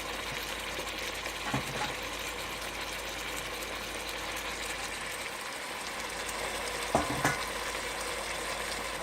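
Chicken pieces frying steadily in a hot pan for chicken adobo, a continuous soft sizzle and crackle with a couple of brief clinks of a utensil, close by and with no talking.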